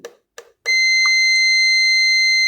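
A few quiet clicks, then a multimeter's continuity beep on a laptop motherboard starts and holds continuously, loud, piercing and close.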